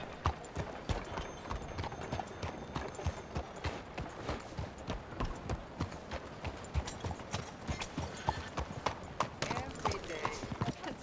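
Rhythmic clip-clop of horse hooves in Red Dead Redemption 2 plods steadily and close, with a voice speaking briefly over the hoofbeats.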